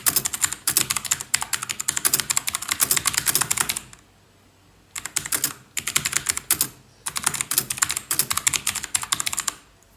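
Someone types steadily on a computer keyboard, close and crisp, in rapid bursts of keystrokes separated by two brief pauses.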